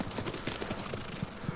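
Hooves of a horse gallop in Shadow of the Colossus, a rapid rhythmic clip-clop of repeated thuds, close and steady throughout the brief stretch with no talk.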